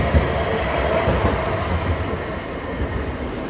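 A four-car Class 221 Super Voyager train from Birmingham New Street runs past at Nottingham station, a loud, steady rumble of wheels and engine with faint rhythmic clatter, close by and continuous.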